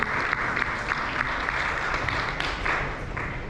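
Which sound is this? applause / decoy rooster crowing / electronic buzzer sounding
applause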